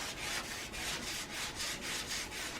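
A brush spreads varnish across an oil painting in even left-right and up-down strokes, giving a soft, steady rhythmic swishing that rises and falls about twice a second, close and fairly quiet with no talking.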